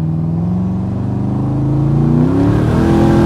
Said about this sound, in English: I want to just get the boost built up on this thing and get that turbo singing